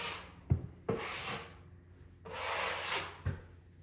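A trowel spreads drywall joint compound along an inside corner, making close rasping scrapes in several strokes, with two longer smooth passes and soft knocks between them.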